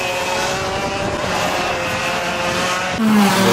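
Formula Blue junior racing karts at Mansell Raceway pass with a continuous high buzzing engine drone, loud and steady, then a sharper rise near the end as another kart closes in.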